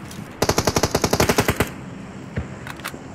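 A rapid burst of about fourteen automatic gunshots in a PUBG Mobile battle, loud and evenly spaced, followed by a few scattered single shots after a short pause, with no talk.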